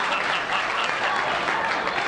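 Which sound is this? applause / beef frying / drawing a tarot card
applause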